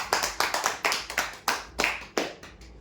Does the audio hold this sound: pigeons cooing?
no